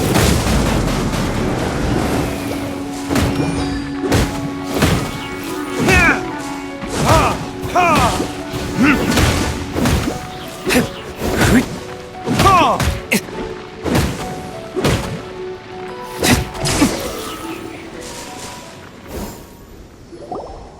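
Combat explosions in the video game Genshin Impact, a rapid series of loud booms, thuds and crashes with brief tonal effect sounds layered between them, dense at first and thinning out toward the end.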